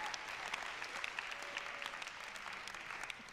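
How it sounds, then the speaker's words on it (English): An audience gives a round of applause, a dense burst of clapping with sharp individual claps standing out, steady throughout the short stretch and heard without voices. "Should we give him another round of applause?"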